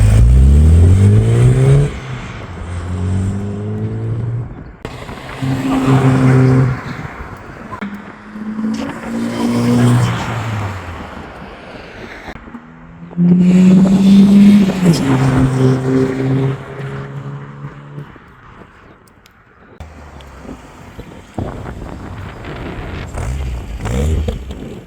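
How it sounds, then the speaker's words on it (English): A Mk3 Golf GTI engine revs repeatedly with a deep, throaty note through a Powerflow stainless steel exhaust, rising and falling in bursts close by, with wind noise in the background. "Don't know if you can pick up the bass of the exhaust on these videos"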